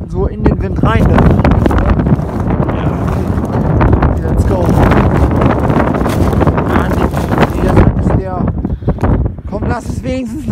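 Strong wind roars across the microphone on a seaside promenade in Wilhelmshaven, a loud continuous buffeting rumble with gusts, while a person talks intermittently.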